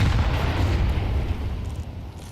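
A grenade blast in Counter-Strike, a loud low booming explosion that decays over about two seconds, heard alone.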